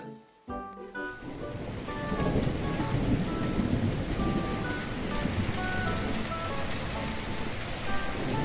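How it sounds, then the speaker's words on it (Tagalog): Heavy rain pours down steadily in a dense, hissing wash, after an opening crack of thunder and a short quiet gap, with no talk, in an animated cartoon. "nakakatakot yung kidlat. Ang lakas na ng ulan"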